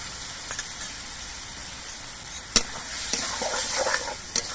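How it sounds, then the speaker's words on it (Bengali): Ginger paste, green chili paste and tomato paste masala frying in a pan for an echor and prawn curry, giving a steady low sizzle with a few sharp clinks of a spoon stirring against the pan. "এবার সব কিছু দিয়ে মশলাটাকে কিছুক্ষণ ভেজে নিতে হবে"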